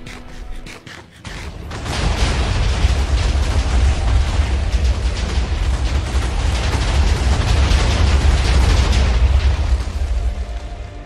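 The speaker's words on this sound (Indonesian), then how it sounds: "Epin akhirnya menyalakan di NT yang berada di dekat mereka, yang meledakkan tempat mereka berdiri itu sampai ke bedrock" A TNT explosion in Minecraft erupts after a short quiet opening, then a loud, sustained rumbling blast roars on for about nine seconds, heavy in the low end and without a pause.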